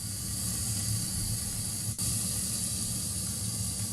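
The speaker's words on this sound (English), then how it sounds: "Let's listen to the sizzle." A thick two-pound porterhouse steak sizzles in a hot pan, giving a steady, close, broadband hiss that holds evenly for several seconds apart from one brief dip.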